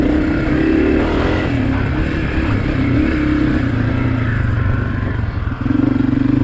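A 2023 Honda CRF250F dirt bike engine runs steadily and loud throughout, a continuous throbbing drone with a brief dip near the end before the pitch rises again, with no voices.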